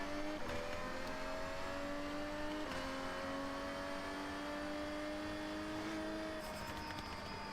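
Car engine revving and holding steady pitch in a racing video game, with gear-shift steps where the tone drops and climbs again, loud and continuous with no talk.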